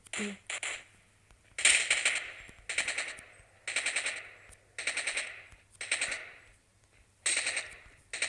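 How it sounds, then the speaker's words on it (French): Gunfire in a battle royale video game, with about nine short rattling bursts of rapid shots spaced roughly a second apart, crisp and close with quiet gaps between them. "Quand vous tirez, là il n'y a pas de tir auto, vous tirez."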